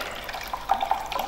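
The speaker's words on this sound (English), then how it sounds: "So I'm going to put some water in the beaker here" Water is poured into a lab beaker, a short, soft splashing trickle that rises slightly toward the end, heard alone without talking.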